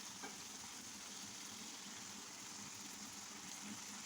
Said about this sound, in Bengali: এখন নেড়ে চেড়ে দিচ্ছি কিছুক্ষণ রান্না করে।